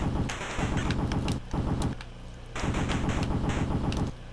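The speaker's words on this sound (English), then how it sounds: "when you run out of the main gun, you'll have your semi-automatic pistol left" Semi-automatic pistol gunfire in The Punisher NES video game: rapid, evenly spaced chiptune shots in sustained bursts with brief pauses between them, loud and up close.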